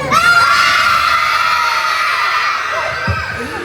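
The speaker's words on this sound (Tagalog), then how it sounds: "ang una nating pag-game ay pahabaan ng sigaw" Children shout loudly together in a long sustained group yell during a shouting contest at an outdoor feeding program, the chorus of voices holding high and strong before a few break off near the end.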